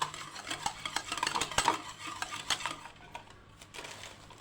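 An egg is beaten with about two spoonfuls of water in a bowl, making a quiet, quick, rhythmic clatter of a utensil scraping and tapping against the bowl.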